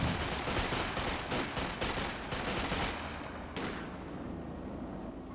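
Rapid bursts of artillery and gunfire from a Company of Heroes 2 match, a dense volley of sharp blasts in the first three seconds, then one more hit and a fading rumble, with no talk.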